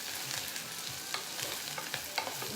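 Food simmers in a pan while being stirred, with a constant sizzling hiss and intermittent scraping and clinking strokes, close and clear.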